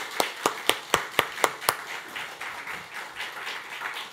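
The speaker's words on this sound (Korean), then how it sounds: "우리 두 사람 인사하고 들어갈 때 힘찬 박수로 축복하겠습니다." A church congregation applauds a newlywed couple at an anniversary Sunday service, with a few loud, evenly spaced claps close by, then softer and more scattered clapping from the room.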